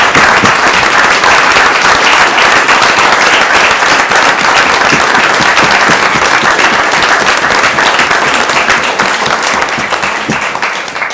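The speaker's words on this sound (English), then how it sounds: "Give yourself applause." Loud, dense applause from a crowd at a county commission meeting in Cheatham County, Tennessee, sustained steadily across the whole stretch with no pause.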